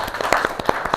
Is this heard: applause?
yes